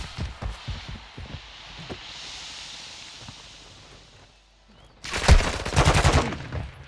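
Call of Duty Resurgence gunfire: loud rapid automatic bursts crackle up front early on, then a quieter hissing stretch, before a second dense, heavy volley erupts near the end.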